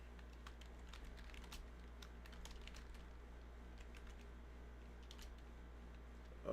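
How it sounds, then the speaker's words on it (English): Steady, fast keystrokes on a computer keyboard clatter on and on at a soft, close level over a low background hum. "I'm just typing it up."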